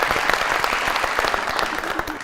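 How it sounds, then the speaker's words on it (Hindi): Studio audience applauds steadily on a television talk show, dense even clapping throughout with a faint voice mixed in underneath. "स्टीफन के लिए तालियां"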